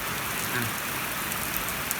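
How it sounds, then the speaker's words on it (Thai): Heavy rain pours down outdoors during an afternoon power cut, a steady, dense hiss of drops drumming on surfaces that fills the whole stretch with no voices. "ตอนนี้ยังตกอยู่เลยนะครับเนี่ยเห็นไหมครับ ตอนนี้คือฝนตก"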